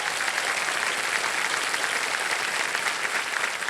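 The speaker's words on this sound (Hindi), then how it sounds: "तालियां बज जाए।" A studio audience on a television quiz show claps in sustained, dense applause, loud and even from start to finish with no voices over it.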